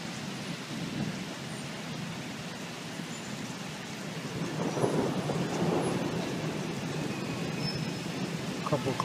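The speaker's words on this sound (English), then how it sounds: "A couple of claps of thunder." Evening summer thunderstorm with steady rain hissing throughout, a low rumble of thunder swelling midway and rolling on, heard from outdoors at moderate distance.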